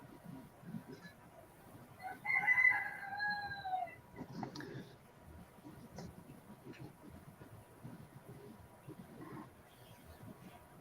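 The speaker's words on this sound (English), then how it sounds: "Kind of miss that sound in the city, not hearing roosters crow." A rooster crows once, a single drawn-out call at moderate distance, followed by quiet outdoor morning ambience with faint murmuring in the background.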